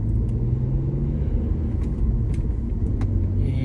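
An Audi drives through a city neighborhood in St. Louis, Missouri, heard from the cabin as a steady, loud low engine and tire rumble with occasional faint clicks and rattles, no talk.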